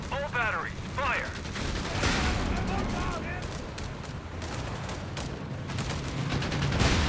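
Artillery batteries firing in the real-time strategy game Company of Heroes 3, heard as booming volleys and scattered blasts over a busy battle soundscape, with a commentator's voice running underneath much of the time.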